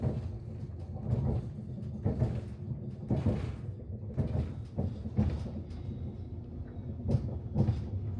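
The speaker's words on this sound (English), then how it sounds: "For the train ride from Swansea to Fishguard Harbour" Inside a moving train between Swansea and Fishguard Harbour: a steady rumbling rattle with repeated clunks and rhythmic jolts, fairly loud and close, with no talking.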